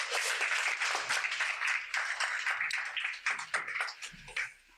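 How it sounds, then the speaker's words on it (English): An audience at a panel discussion on South Africa's post-election future claps for the panelists, a brief dense round of applause that thins out toward the end. "Please give them a round of applause."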